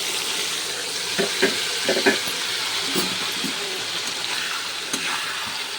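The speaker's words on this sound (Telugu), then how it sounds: "తర్వాత మనము ఈ ఉడికించి పెట్టుకున్న వంకాయ ముక్కలు వేసుకుందామండి" Boiled brinjal pieces go into a crisp, reddened tempering and are stirred, giving a steady sizzle with a few soft utensil clunks, close by and with no talking.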